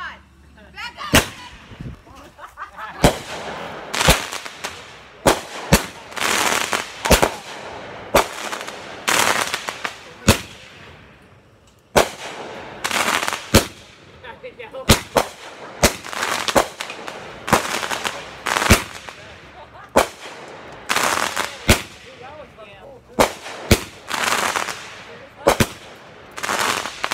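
A firework show goes off in a long string of sharp, loud bangs and crackling bursts, spaced irregularly and sometimes in rapid clusters, with faint voices now and then between them.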